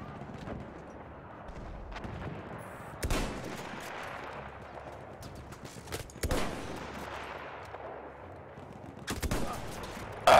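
Gunfire in the World War I shooter Battlefield 1, at Cape Helles: sustained rattling automatic fire with several loud, sharp bursts punctuating a dense, noisy battle background.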